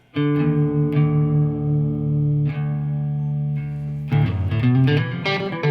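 An electric guitar lick played through effects rings out as sustained, reverberant notes with a few plucked attacks, then a faster run of notes near the end, played alone with no talking.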